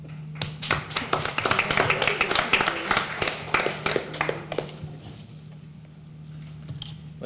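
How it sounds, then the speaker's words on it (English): Small audience at a school board meeting applauding golf team members, sparse hand claps building to a steady patter, then thinning out and fading, with a low electrical hum underneath. "Or we can applaud individually."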